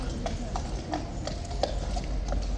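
Horse hooves clip-clopping on a road during a Good Friday motorcycle ride gathering in London, a steady series of sharp knocks over a constant low background rumble.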